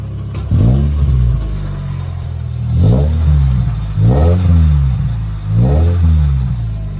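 A modified-exhaust Honda Civic, fitted with an aftermarket air intake and oil catch can and with a worn belt, revs close by in four sharp bursts that rise and fall between steady idle, loud and unaccompanied by talk.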